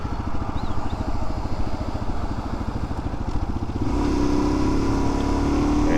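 A 2022 Suzuki DRZ400SM motorcycle ridden with the throttle going on and off, its loud single-cylinder engine chugging in a steady pulsing beat before swelling into a smoother, stronger drone as it pulls harder.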